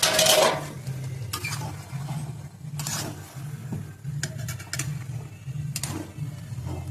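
A pot lid clatters as it is lifted off a wok of lotis (taro stolons) simmering in a Bengali village kitchen. Sharp metal clanks and scrapes sound up close over a low steady hum, with no talking.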